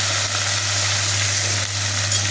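Eggplant and cowpea beans with turmeric fry in a hot pan, giving a dense, even sizzle that stays loud and unbroken throughout, with a low steady hum beneath and no talking.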